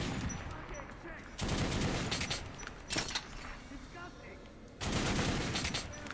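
Gun firing in Metro Last Light, several sustained bursts of loud rattling fire separated by short pauses, over a busy background, with someone speaking in places.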